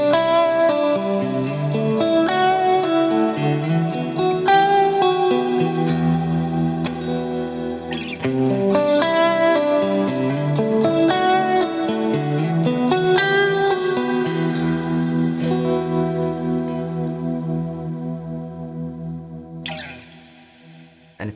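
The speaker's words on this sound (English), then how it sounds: "this is the ultimate modulated reverb effect" Electric guitar played through an Axe-FX III amp modeler's Plex Delay, a lush modulated reverb: sustained chords and picked notes shimmer and swell in a wide, chorused wash, then ring out and decay to near silence at the end, with no talking.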